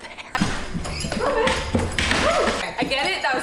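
A pet dog whimpers and yips in a home, thin cries mixed into steady close talk from a woman.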